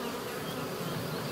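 Black honeybees buzzing inside a hive, a dense, continuous hum from many insects close by, steady and unbroken with no voices.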